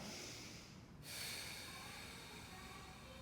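A long, slow breath drawn in during a warm-up stretch, a soft airy hiss that swells after a brief pause and holds steady, close and quiet.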